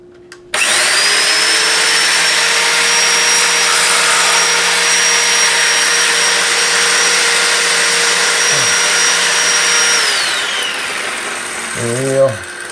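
An angle grinder mounted in a precision stand spins up and runs at a loud, steady high whine for about ten seconds, then winds down, followed by a few brief knocks and clatter at the end.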